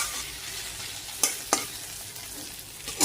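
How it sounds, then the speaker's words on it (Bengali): Spices being stirred and fried in a pan for a katla fish curry, a soft continuous sizzle broken by two sharp scraping strokes of a spatula and another near the end, no talk. "মশলা কষাচ্ছি"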